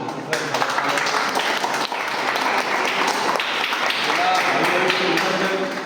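A group claps together at a birthday celebration in a gym, a dense, steady patter of many hands that carries on without a break, with a busy room around it.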